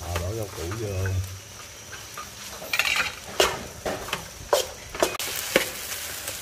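Vegetables stir-frying in a pan while a seafood rice dish is cooked: a soft sizzle under sharp, irregular metallic scrapes and clanks of a utensil against the pan, with a voice talking at the start.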